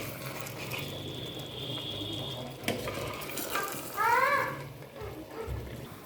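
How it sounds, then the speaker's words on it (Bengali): Chicken curry with potato pieces being gently stirred in a cooking pot, a soft continuous sizzle with light scraping and a few utensil clinks, close and steady with no talking. "আরেকবার মাংসটাকে নাড়িয়ে নেব।"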